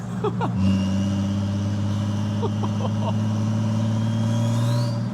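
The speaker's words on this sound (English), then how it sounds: "We're making turbo-y noises, but we're not opening the throttle that much." A turbocharged Jeep Wrangler with an open exhaust drives under steady light throttle, its loud, close engine drone holding an even pitch and carrying faint turbo whistle and spool sounds throughout.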